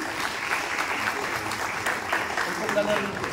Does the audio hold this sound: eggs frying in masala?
no